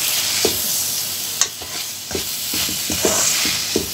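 Chicken hot dog pieces fry in soy sauce masala with a steady close sizzle, while a spoon stirs and scrapes the pan in irregular clacks.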